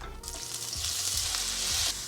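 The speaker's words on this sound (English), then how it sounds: "All of this tofu is gonna go in the pan behind me." Cubes of tofu fry in a hot pan with a steady, loud sizzle and crackle close to the mic, with a few soft stirring bumps and no talking.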